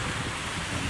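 Wind blows over Manila Bay, a steady, fairly loud broadband rush with no voices.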